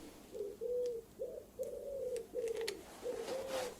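Several pigeons coo nearby in a steady series of low, rounded calls, one after another with short gaps, fairly loud against a quiet background.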